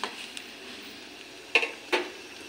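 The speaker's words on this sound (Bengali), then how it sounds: "ডালের সঙ্গে পাট পাতাটা মিশিয়ে নিই।" A spoon stirs jute leaves into red lentil dal in a metal pot, two brief clinking scrapes standing out against a quiet, steady kitchen background.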